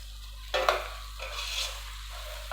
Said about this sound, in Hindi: इनको हल्का सा फ्राई करके